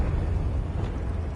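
A Confringo blast spell goes off in Hogwarts Legacy, heard as a close, steady burst of broadband rumble and crackle that holds at a fairly even level, with no voices.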